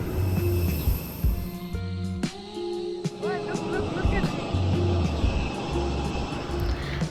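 Airplane at an airport before a flight to Bangalore, a steady engine roar running throughout under a busy terminal ambience, with people talking nearby.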